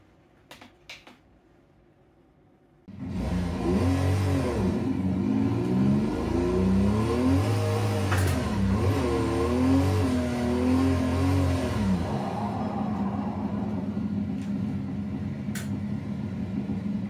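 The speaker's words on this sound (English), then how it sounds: "So basically just accelerating hard and then braking." A race car in a sim racing game starts from quiet with a sudden loud engine roar, revving up and down through several gear shifts for about nine seconds, then easing off as it brakes, with no talking.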